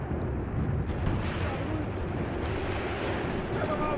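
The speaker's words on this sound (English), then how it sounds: "A steady stream of machine gun fire there." Sustained machine gun fire rattles through a Graviteam Tactics: Mius Front battle, a dense, continuous burst of shots mixed with heavier rumbling blasts at moderate volume.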